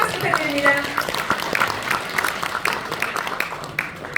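An audience at a blockchain association anniversary ceremony claps as guests are introduced, a moderate round of applause mixed with a speaking voice throughout.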